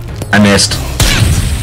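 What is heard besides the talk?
grenade explosion, from the video game Worms Clan Wars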